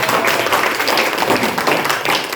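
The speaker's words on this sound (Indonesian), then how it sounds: "Beri tepuk tangan." An audience at a school staff meeting and work-planning opening claps together in a dense, continuous wash of applause that holds steady for a couple of seconds.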